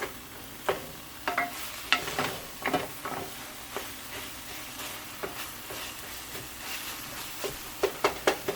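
Eggplant sabji with green chilies cooking in oil in a pan, a soft continuous sizzle broken by repeated sharp scraping clicks of stirring at an uneven rhythm, close and fairly quiet.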